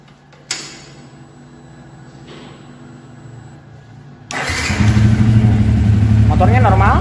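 Fuel-injected motorcycle engine started after the bike had been tipped over: an electrical click and low hum, then the engine catches and settles into a loud, steady idle, with a voice speaking over it.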